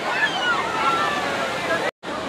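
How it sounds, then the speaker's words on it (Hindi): Waves wash steadily at crowded Baga Beach in North Goa, a constant close surf roar with no break until a brief dropout near the end. "सबसे ज़्यादा क्राउडेड बीच है ये"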